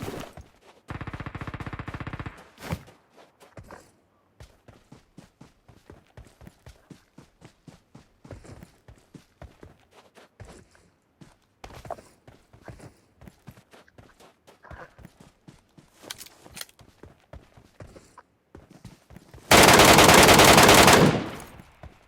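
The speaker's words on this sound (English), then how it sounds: "Who are y'all shooting at?" Gunfire in a video game: long bursts of rapid automatic fire at the start and end, with scattered single shots and clattering impacts in between, loud and close.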